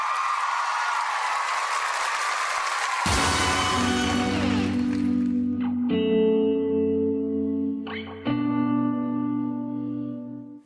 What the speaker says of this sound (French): Faites rugir la salle de vos applaudissements